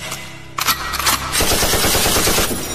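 Gunfire sound effect: after a short lead-in, a loud, rapid machine-gun burst rattles continuously, close and harsh, with no speech.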